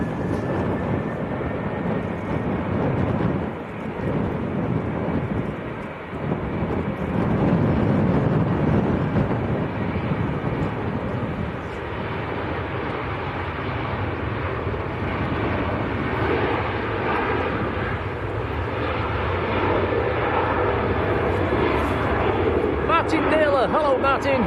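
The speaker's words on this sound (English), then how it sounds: "One lined up, another one taxiing out." An airliner taxiing at Manchester Airport gives a steady, broad jet engine rumble that swells and eases over the whole stretch, heard from a spotting position with people talking over it.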